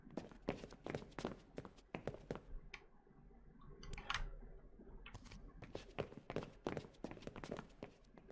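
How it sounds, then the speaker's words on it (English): Footsteps thud rapidly in the horror game The Killing Antidote, a quick run of fairly close, moderately loud steps with a short clicking burst in the middle. "I hear footsteps."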